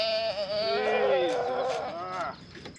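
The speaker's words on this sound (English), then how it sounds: "And dare I mention the overly dramatic goat we have." A goat on a Portugal homestead animal shelter gives one long, loud, wavering bleat lasting nearly three seconds, close to the listener.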